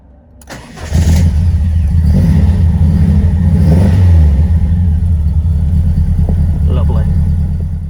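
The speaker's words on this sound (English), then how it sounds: "Let's try a cold start on XR3i" A Ford Escort XR3i fires up from a cold start with a brief crank, then settles into a loud, steady, close idle with a slight rise in revs midway, and faint voices in the background.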